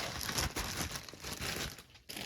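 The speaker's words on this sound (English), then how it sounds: "let me put these back in this big plastic bag" Hard resin pieces being dropped into a big plastic bag, with continuous close crinkling and rustling of plastic and small clattering knocks, steady throughout with a brief pause near the end.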